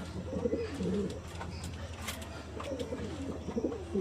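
A pair of domestic pigeons, a male and a female, coo softly and repeatedly nearby, the low rolling calls rising and falling over a steady background hum.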